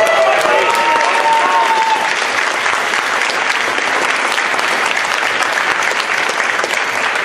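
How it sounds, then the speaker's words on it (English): A large crowd at a Retropalooza IV convention panel applauds loudly and steadily throughout, with a few voices briefly rising above the clapping at the start. "give him a round of applause"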